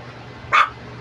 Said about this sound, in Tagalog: May tumatahol na doon.